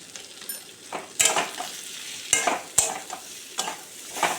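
Vegetables with turmeric are stir-fried in a pan, with a low frying sizzle and several sharp spatula scrapes and clatters that come at uneven intervals, close by.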